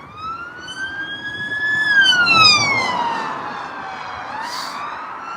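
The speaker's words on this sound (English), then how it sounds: "we got a speeding British police car" A British police car siren wails past at speed, its two-tone pitch sliding downward as it recedes, loud and near over the rumble of road traffic, with no talking.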